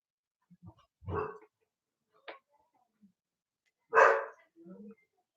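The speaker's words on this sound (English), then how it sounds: "Forgive me if you can hear the dog barking." A dog barks a few times in short, separate bursts at a moderate distance, with quiet gaps between them.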